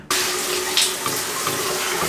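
Water from a shower runs in a steady, loud hiss close by, continuous throughout with slight splashing changes.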